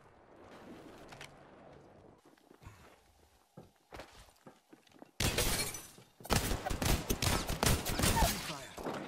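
Gunfire erupts in Apex Legends: quiet footsteps and scattered shots first, then loud, rapid bursts of automatic fire crackling up close through the second half.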